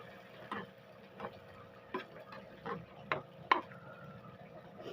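Sardines in sauce being stirred in a pan, a spoon scraping and tapping about every 0.7 seconds in a steady rhythm, close and moderately soft over a faint background hum.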